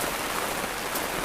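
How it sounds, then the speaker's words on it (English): Heavy rain pours steadily on the canvas of a tipi tent in a bushcraft camp, a dense, even hiss of drops close around with no voices. "and a lot of rain."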